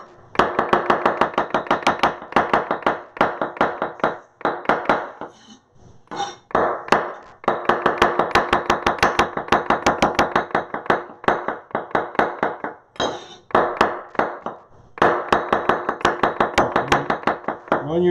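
Rapid, even knife chops on a cutting board as mushrooms are sliced thinly for a linguine dish with lemon, garlic and thyme. The strikes are close and crisp, in long rhythmic runs with short pauses between bursts.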